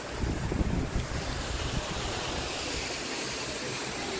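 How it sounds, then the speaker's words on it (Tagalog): Steady broadband roar of sea waves breaking on a shore with sea caves in Qatar, with wind buffeting the microphone, heavier in the first second and then an even wash. "Andun na yung dagat, oh."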